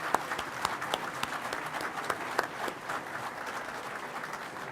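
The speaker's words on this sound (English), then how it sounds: "Let's give them a big round of applause." An audience applauds at the Central Lakes College Staples Campus commencement, dense steady clapping from a large crowd filling the room at moderate distance, with no talk over it.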